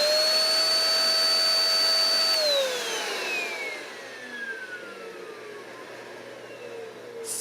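A Shark EP600 bagless stick vacuum runs at a steady high whine, then powers down with a falling pitch as the motor spins down to a low rumble, loud and close, with no speech.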